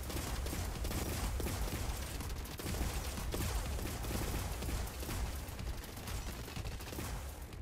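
Robots firing machine guns in the video game Gladiabots: a continuous, crackling barrage of rapid shots, steady and fairly loud throughout with no pauses.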